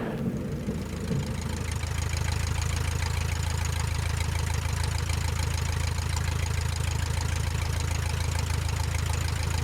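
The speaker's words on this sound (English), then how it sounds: "Silver Luscombe, back taxiing, runway 5" Steady, loud drone of a Luscombe light airplane's piston engine idling while back taxiing on a runway, a continuous low throbbing rumble with no speech.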